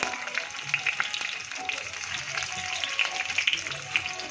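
Cumin, mustard seeds and garlic cloves sizzle in hot oil for a Gujarati bottle gourd, onion and potato curry, giving a continuous crackling fry dotted with sharp little pops.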